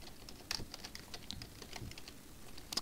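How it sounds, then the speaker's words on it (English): Quiet keystrokes on a computer keyboard, a brisk run of soft clicks with a few sharper taps, close but faint, with no talk. "I'll just type it in here."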